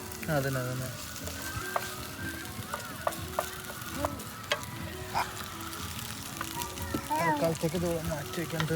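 A frozen patty sizzles and crackles in a hot pan, a steady frying hiss with scattered pops, while people talk over it.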